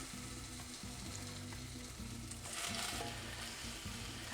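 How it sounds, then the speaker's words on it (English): Chicken tenders sauté in a hot pan with a dense, steady sizzle and crackle that swells slightly partway through, close up and with no voices. "So we need to lightly saute them."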